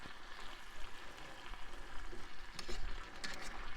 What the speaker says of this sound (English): now we just have to wait for that sauce to start boiling